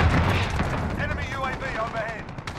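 A Predator missile strike in Modern Warfare 2019 produces a heavy booming explosion with rumbling debris and gunfire tailing off, while a voice talks over it.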